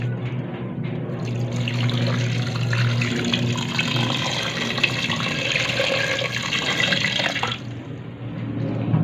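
Water pours steadily into a cooking pot holding pork mask (maskara) already seasoned with sugar and peppercorn leaves, a continuous splashing stream for several seconds over a low kitchen hum before it tapers off.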